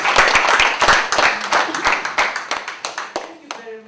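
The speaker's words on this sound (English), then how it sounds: "Let's clap for her." A group claps for a woman arriving at a home, a dense run of hand claps that gradually thins and softens toward the end, with voices chattering underneath.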